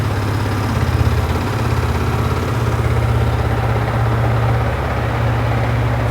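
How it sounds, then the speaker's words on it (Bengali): Smooth, steady running of a Yamaha R15 V3 motorcycle, Indian BS6 model, a continuous low throbbing idle recorded up close, with a slight swell near the start and no talk. "খুবই স্মুথ আছে ইঞ্জিন সাউন্ড"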